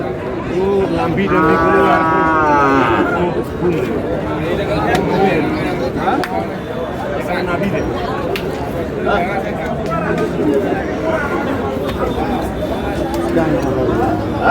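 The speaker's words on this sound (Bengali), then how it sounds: "ষাঁড় বাচ্চা।" A young bull calf moos once, loud and close, amid a busy crowd of people chattering and calling at a cattle market.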